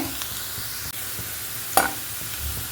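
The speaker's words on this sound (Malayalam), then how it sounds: "ഇതിനോടൊപ്പം തന്നെ അങ്ങനെ ഒന്ന് വഴറ്റിയെടുക്കണം കേട്ടോ" Ingredients sautéed and stirred in a pan give a soft, steady sizzle with faint scraping, quiet and close, broken by one brief clink partway through.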